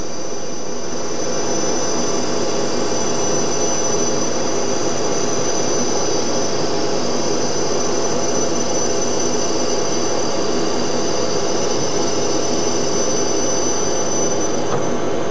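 An Aeon Redline Mira laser engraver cuts a vintage-style sign, giving off a loud, steady machine whir and airflow hiss that holds without a break from start to finish, close by and with no talking.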